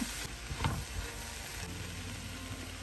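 Marinated prawns land in hot butter with carrot and onion, a quick splash of sizzling that settles into a steady close frying crackle, with faint stirring scrapes and no voices.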